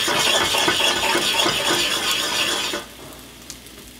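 Eggs and vegetables for a veggie omelet sear in a hot pan, a steady, loud, close sizzle that runs for nearly three seconds and then drops to a faint hiss with one small tap.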